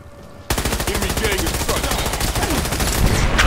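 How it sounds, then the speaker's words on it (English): Sustained rapid automatic gunfire in the video game Batman Arkham Origins multiplayer, loud and near, a dense stream of shots that keeps building in intensity through to the end. "And of course, Mike, every single one of my bullets miss!"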